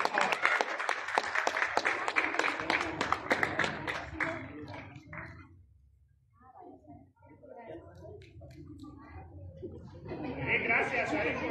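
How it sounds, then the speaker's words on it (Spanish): A crowd applauds the third-place youth football team at an under-11 final in Sacapulas, Quiché, Guatemala: loud, rhythmic clapping for several seconds dies away into chatter and murmuring voices, then a fresh burst of clapping rises at the end. "Y le vamos a brindar, por favor, los aplausos al equipo Unánime de Gol, que tiene este tercer lugar."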